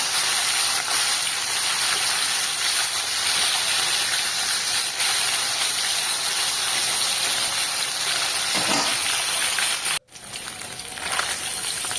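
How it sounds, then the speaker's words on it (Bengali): Small rohu fish pieces fry in hot oil, making a loud, continuous hissing sizzle with no break, then a sudden cut and a quieter sizzle afterward. "বেশ একটু কড়া করে মাছগুলো আমি এখানে ভেজে নিচ্ছি।"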